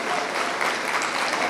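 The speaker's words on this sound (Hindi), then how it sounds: "एक बार बजा के तालियां हमें बताइए कि आपको नज़्म अच्छी लग रही" An audience at a mushaira poetry gathering claps together, a dense, loud burst of applause that fills the whole short moment without any voices on top.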